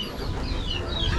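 A chicken clucks briefly in a few short, thin calls over a low background rumble, at moderate distance.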